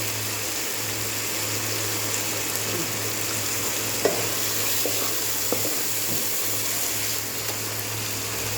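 Spices and coriander powder sauté in a pan for meat curry, a continuous close sizzle with occasional stirring scrapes and light utensil knocks, no talking.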